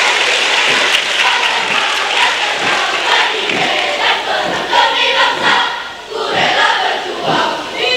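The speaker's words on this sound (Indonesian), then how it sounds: "Mari kita berikan tepuk tangan yang lebih meriah lagi." An audience at a school inauguration event applauds loudly, with dense rhythmic clapping and crowd cheering that briefly dips before swelling again, sustained and close.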